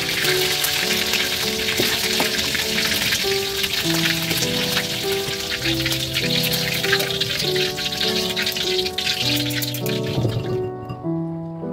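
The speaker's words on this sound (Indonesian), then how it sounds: "Jadi nyampe sini tuh tinggal digoreng aja." Pre-seasoned chicken frying in oil, a dense and continuous crackling sizzle with popping spatter that stays loud and close throughout, with no talk.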